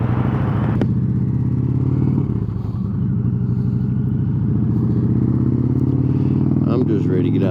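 A motorcycle rides in heavy traffic on the approach to a bridge, its engine a loud, steady low rumble close by, with a voice talking over it.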